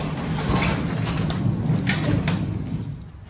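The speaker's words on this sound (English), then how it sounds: "Open the big door." A large garage door opening in a workshop, a steady mechanical rolling and rattling rumble for about three seconds that fades out at the end.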